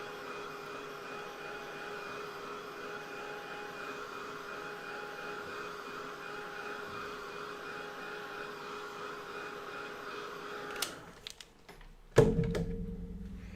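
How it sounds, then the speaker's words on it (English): A hair dryer blows a steady, even whir for about eleven seconds while drying masking fluid on watercolor paper, then cuts off, followed by a few close knocks and thumps. "Keep that dryer moving. Don't let it sit in one spot and overheat that masking."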